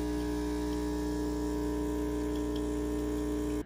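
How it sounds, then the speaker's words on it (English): An espresso machine pumps water through itself for cleaning, giving a steady, close electric hum with a continuous buzzing drone that cuts off abruptly at the end. "when it heats up, you let water run through it"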